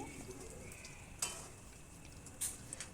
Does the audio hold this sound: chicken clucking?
no